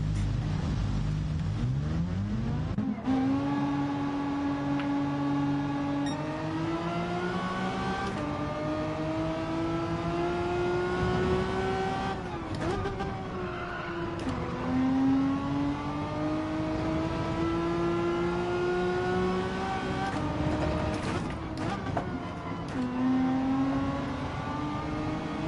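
A race car engine in Gran Turismo 7 screams through repeated gear runs, pitch climbing steadily then dropping at each shift, loud and continuous throughout.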